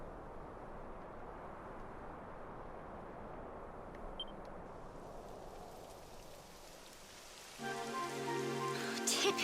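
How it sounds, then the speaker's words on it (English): Steady, soft rain patters down in the fantasy role-playing game Dragon Quest XI, a continuous hiss for most of the stretch before a brighter, tonal game sound rises over it near the end. "It would have to go and start raining, wouldn't it?"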